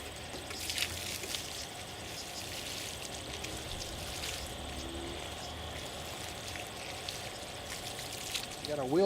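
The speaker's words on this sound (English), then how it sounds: "but I'm going to add some water anyway" Water pours steadily onto an anaerobic compost pile, a continuous splashing trickle close by that holds level throughout, ending in a brief louder splash.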